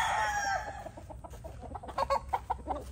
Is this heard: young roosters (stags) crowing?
yes